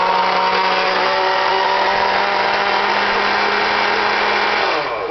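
A kitchen blender whirring at a steady high pitch as it purees deer brain with about a cup of water, one continuous loud drone that dips slightly just before stopping.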